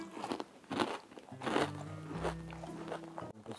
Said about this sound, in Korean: 뭘 먹든 다 엄청 바삭바삭거려